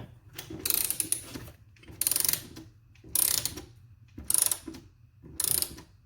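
A hand ratchet snugs down a bolt on a Corvette's ACP hood, giving five distinct bursts of close, loud clicking spaced about a second apart, with brief quiet gaps between strokes.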